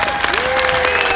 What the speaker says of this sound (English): So they deserve one more time a very big round of applause